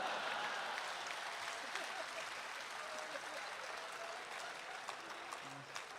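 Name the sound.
audience applause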